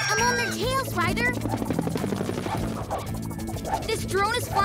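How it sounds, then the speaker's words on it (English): In a PAW Patrol cartoon, a steady whirring buzz of a wildly flying drone runs beneath excited voices and music, with rotor-like chopping throughout. "This drone is flying too wildly to catch!"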